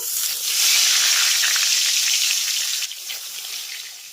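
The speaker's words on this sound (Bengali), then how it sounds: "এবার একটা একটা করে বেগুন আমি এই গরম তেলের ভিতরে ছেড়ে দেব" Loud, bright sizzling as slices of eggplant hit hot oil, a dense frying hiss that swells and then settles slightly.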